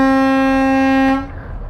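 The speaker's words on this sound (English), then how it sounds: "We'll have to have the horn test." A Newmar Super Star or Renegade Verona motorhome horn sounds in one loud, steady, continuous blast for about a second before cutting off, leaving a faint rumble behind it.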